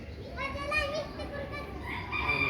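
Chickens and black roosters make soft clucks and short calls at a moderate distance, with voices and background chatter mixed in.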